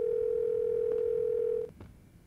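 A steady, loud phone dial tone in the video game Silent Hill: Shattered Memories holds for about a second and a half, cuts off abruptly and is followed by a couple of faint clicks and quiet background.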